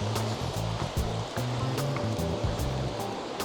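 Ocean surf washing onto a beach in Hua Hin, a steady broad rush of waves that fills the whole clip, with a low humming tone running underneath.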